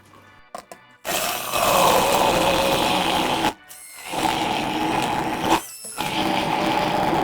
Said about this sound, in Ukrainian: Горошок пересипаю в чашу та перебиваю блендером.